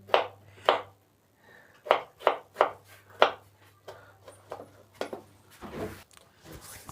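A knife chops turnips and other vegetables for a turnip curry, with a series of sharp, close, irregular cuts, some in quick clusters, over a steady low hum, with no talking.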